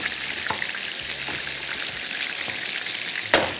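Beef sizzles and fries steadily in a pan, with a few soft spoon scrapes and stirs breaking through the constant hiss and a sharper clatter near the end.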